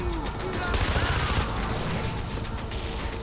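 Shotgun fire in Far Cry 4, a burst of loud blasts and rattling gunfire mid-clip over continuous game noise, with someone talking across it.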